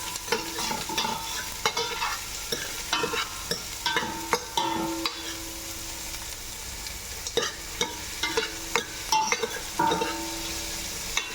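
Onions frying in oil in a pan while being stirred, a steady close sizzle broken by repeated scraping and clicking strokes of a utensil throughout.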